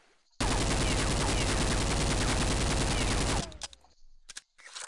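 A scoped rifle in Counter-Strike Beta 6.5 on the old de_aztec map fires a rapid, continuous burst of loud, close gunshots for about three seconds, followed by a few scattered shots and a short stretch of quiet.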